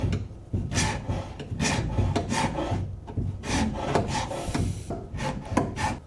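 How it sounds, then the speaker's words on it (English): A hand detail scraper rasps across wood on a cabinet hutch, in repeated short strokes with an uneven rhythm, close and fairly loud with no talk. "Here I'm just using this detail scraper to get where the sander couldn't reach."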